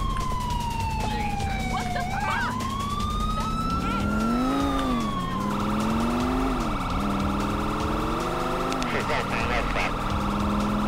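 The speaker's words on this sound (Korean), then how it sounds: "앰뷸런스 뭐야? 앰뷸런스, 앰뷸런스." Ambulance siren in GTA IV during a police-mode chase, a loud wailing tone that sweeps up and down alongside car engine noise, then shifts to a steadier pitch, continuous throughout.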